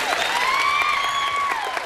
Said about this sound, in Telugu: వినిపించండి మీ చప్పట్ల సందడి